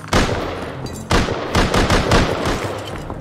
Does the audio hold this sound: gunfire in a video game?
yes